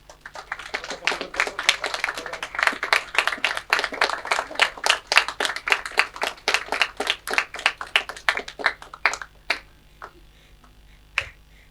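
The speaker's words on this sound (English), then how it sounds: "please give them a round of applause" An audience claps through a round of applause for event staff and MCs, a dense burst of sharp close hand claps that builds and then thins out into scattered final claps.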